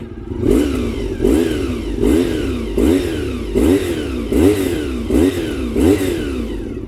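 A Honda VFR400 motorcycle engine revved hard with the throttle twisted: eight or nine sharp, evenly spaced revs climbing and dropping quickly back toward idle, loud and close, with no talking.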